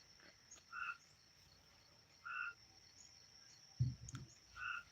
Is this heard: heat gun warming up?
no